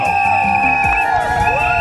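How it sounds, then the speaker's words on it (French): Wedding guests cheer and shout in a dense, loud burst of crowd noise with whoops, close by and continuous. "Applaudissez pour le mari."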